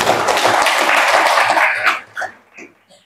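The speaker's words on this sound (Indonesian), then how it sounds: "Tepuk tangan dulu." Applause from the audience at a Scout movement district meeting in East Kolaka, Indonesia: dense, loud clapping for about two seconds, then tapering into a few scattered claps and stray noises.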